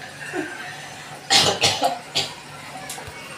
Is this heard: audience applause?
no